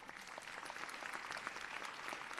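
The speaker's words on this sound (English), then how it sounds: "Let's give him a round of applause." Steady applause from an audience at a graduate school hooding ceremony, dense clapping held at an even level throughout without pause.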